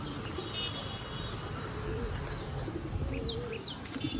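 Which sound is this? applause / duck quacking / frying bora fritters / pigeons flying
pigeons flying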